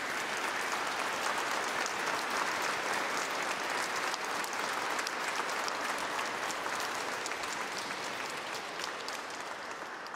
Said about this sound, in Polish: Wielkie brawa dla księdza biskupa.